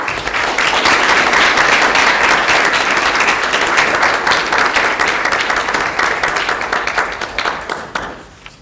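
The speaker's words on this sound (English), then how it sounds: "Let's honor both of these students with a round of applause" Audience at a school district board meeting applauding two honored students, a loud, dense round of clapping that holds steady for several seconds before thinning out and fading.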